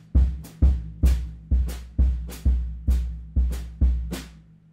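Drum kit bass drum playing a three-beat cross rhythm against hi-hat on beats one and three: nine punchy, evenly spaced kicks with crisp hi-hat hits layered on some of them, loud, close and unaccompanied.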